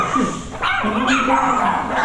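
Several Jack Russell terriers in a kennel bark and yip in quick, overlapping bursts, fairly close, with a busy chorus of barking continuing throughout.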